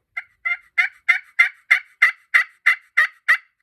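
Turkey box call worked by pulling the lid across, giving a series of about eleven evenly spaced raspy yelps that build slightly in loudness, close and alone.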